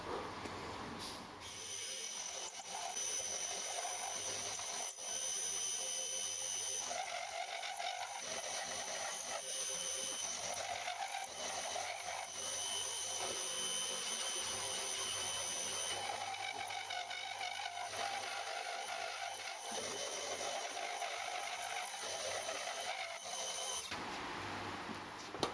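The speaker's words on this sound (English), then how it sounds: "we'll get in and we'll machine this pocket and the top here" A milling machine cuts a pocket in a part for a homemade rotary table, giving a steady, continuous machining whine and rumble that runs almost the whole time without pause.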